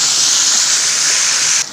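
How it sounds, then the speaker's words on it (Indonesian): Blended sambal chili paste fries in hot oil with a loud, steady, close sizzling hiss that cuts off abruptly just before the end. "Nah sekarang kita goreng sambalnya terlebih dahulu."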